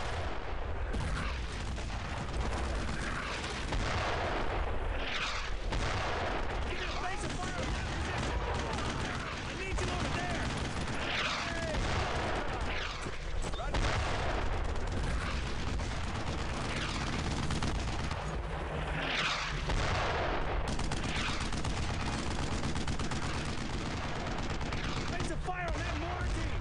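Continuous battlefield gunfire in a World War II shooter, Brothers in Arms: Road to Hill 30, with dense rifle and machine-gun bursts and booming blasts running steadily throughout, mixed with voices.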